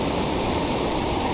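Kondeshwar waterfall in heavy flow gives a loud, steady, dense roar of rushing water, close and unbroken, with no voices.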